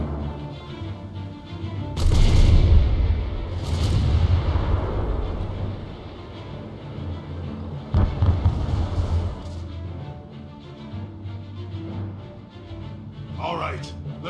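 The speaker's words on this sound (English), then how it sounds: "Mortar teams, fire at will." A mortar barrage in Guild Wars 2 fires as several booming launches and rumbling impacts spread over the stretch, with deep echoing blasts and voices talking between them.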